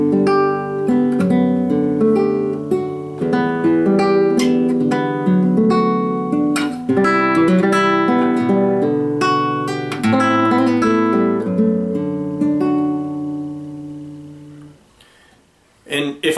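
An instrumental arrangement example with extra embellishments: dense picked notes and runs ring over sustained chords in close, busy phrases, fading near the end before a brief voice cuts in.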